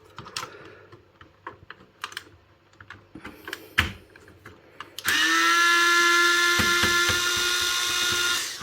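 A Parkside cordless screwdriver backs a screw out of a board: light clicks and handling noises come first, then a steady, loud, close motor whine runs for about three seconds before stopping.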